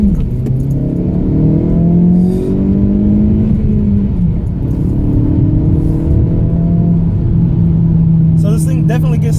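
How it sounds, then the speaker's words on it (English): A Hyundai Veloster Turbo Rally Edition accelerates uphill with a loud, steady engine drone that rises in pitch through the revs, heard from inside the cabin, with brief jingling near the end. "let's go ahead and start off with a small acceleration uphill"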